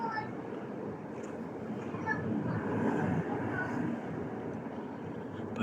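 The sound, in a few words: train going past on a viaduct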